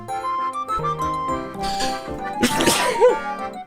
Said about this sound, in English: Oh no, I'm about to sneeze.